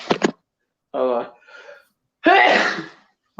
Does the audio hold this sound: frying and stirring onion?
no